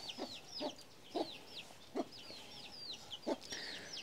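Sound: chickens clucking

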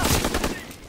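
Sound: gunfire in Call of Duty WWII video game

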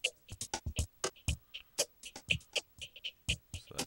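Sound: vocoder loop effect in Reason 5 with oscillator envelope

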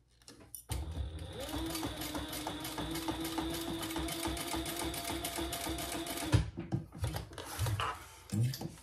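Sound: sewing machine basting zipper gusset ends

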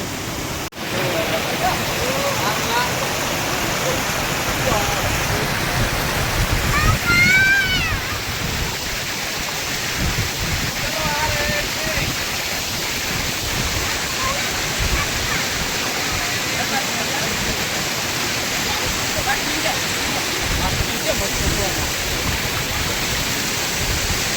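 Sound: Kundi waterfall flowing

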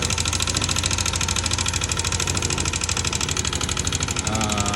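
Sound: scooter engine running with abnormal noise

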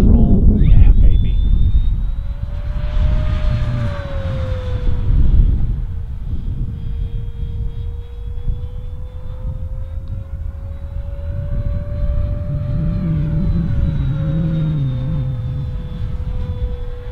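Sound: FMS P-47 Razorback radio-controlled model airplane flying

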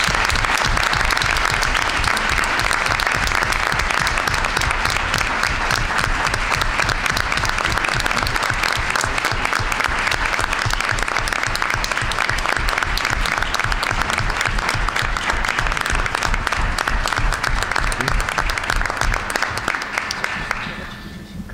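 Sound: rousing applause at board of education meeting

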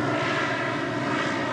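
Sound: airplane engine in flight

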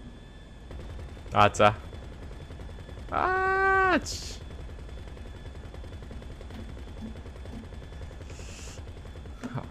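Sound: gunfire in GTA V video game

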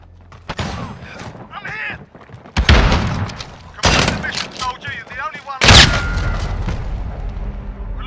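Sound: gunfire in Call of Duty Modern Warfare video game

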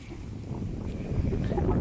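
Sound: warm wind blowing in a garden

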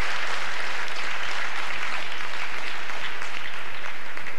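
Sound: hall audience applauding a table tennis point

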